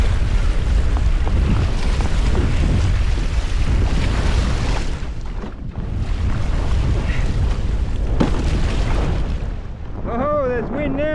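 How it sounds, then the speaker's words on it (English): Strong wind blows outdoors near the water and buffets the microphone with loud, continuous roaring gusts that surge and briefly dip, close and dominant, while a person speaks near the end. "Oh, there's wind now. Heaps of wind."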